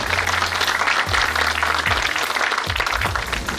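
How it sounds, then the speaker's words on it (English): Business school audience applauding to welcome the founder of a sock brand, a lively burst of many hands clapping close by, with a low hum underneath and the clapping thinning slightly toward the end. "A huge round of applause for her to be here."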